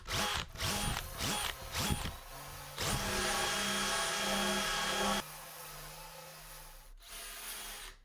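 Wire brush on a drill scrubs lichen from old weathered wood, a loud whirring grind with stuttering short bursts, then a sustained steady spin that drops lower before stopping, followed by another brief burst.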